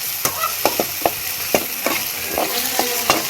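Kokum, tomato and onion frying for a fish curry in a pan over a wood-fired clay stove: a steady sizzle with repeated sharp taps and scrapes of a stirring spoon at irregular intervals, close up.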